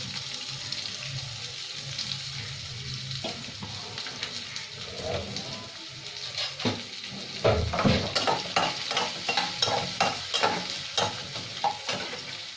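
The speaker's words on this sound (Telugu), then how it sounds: "తరిగి పెట్టుకున్న ఉల్లిపాయ, పచ్చిమిరపకాయ, కరివేపాకు 3 దీంట్లో వేసుకొని బాగా వేయించుకోవాలి." Chopped onion, green chilli and curry leaves frying in a pan, a steady bright sizzle with regular scraping stirs that grow more insistent toward the end.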